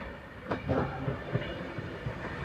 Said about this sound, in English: find incoming the 10:58 Avanti West Coast service from London to Glasgow